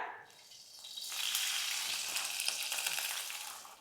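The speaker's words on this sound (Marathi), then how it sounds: "मिरची अशी चांगली परतून घ्यायची तुपात" Green chillies frying in ghee in a pan, a steady broadband sizzle that swells after the first second and holds loud and close to the end, with no talk over it.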